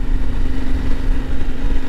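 A Yamaha Ténéré 700 World Raid motorcycle idles close by, a steady, loud low engine rumble with an even tone and no other sounds.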